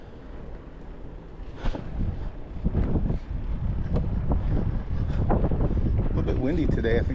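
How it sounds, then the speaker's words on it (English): Gusty wind buffets the microphone in low rumbling bursts while a person talks over it, the roar rising and falling throughout. "Windy today. I think we're gonna get a storm tonight."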